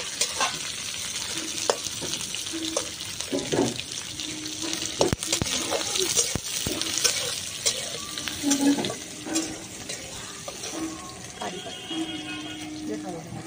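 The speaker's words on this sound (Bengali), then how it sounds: "এখানে আমি পেঁয়াজ কেটে নিয়েছি, একটা মিডিয়াম আর একটা একটু ছোট সাইজের, এটাও দিয়ে দেব। এটাকেও একটু ভালো করে ভাজা করে নেব।" Chopped onions sizzle in hot oil in a pan, a soft steady frying hiss punctured by scraping stirs and a few sharp clicks, with occasional water running in the background and someone talking over it.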